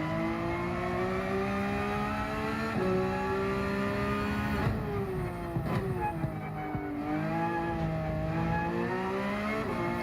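A Porsche 992 GT3 R race car in Gran Turismo 7, its engine revving hard and steadily through gear changes and brief lifts, loud and continuous.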